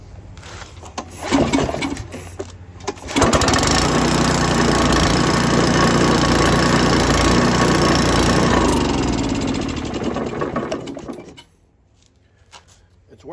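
An old Coleman generator's engine is cranked with a few rough pulls, then catches and runs at a steady loud drone for several seconds before shutting down to quiet.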